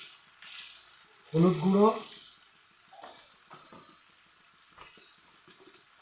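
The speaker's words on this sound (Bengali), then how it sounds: "হলুদ নুন দিয়ে আলুগুলো ভালো করে ভেজে নেব" Potatoes frying in a pan with turmeric and salt give a steady, moderately close sizzle, with a brief louder burst of voice-like sound near the start and faint clinks and stirs afterward.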